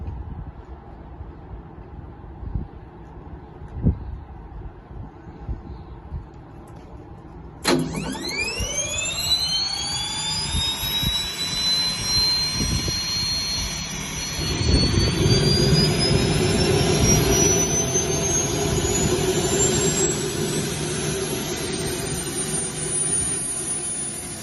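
On a test bench, a gas turbine lights up with a sudden whine that sweeps rapidly upward in pitch and settles into a loud, steady high scream, a deeper roar thickening partway through, with no talking.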